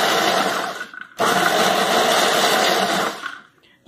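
A kitchen blender grinds avocado for making avocado oil, a loud steady whirring motor that cuts out briefly near one second, restarts, then winds down at the end.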